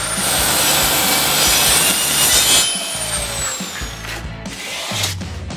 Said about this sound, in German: Mit der Handkreissäge geht es nun an die Gärungsschnitte für den inneren Korpus.